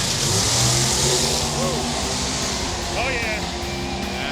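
Drag car doing a burnout at a drag racing event, engine revving loud and sustained with tire roar, while a person speaks briefly over it.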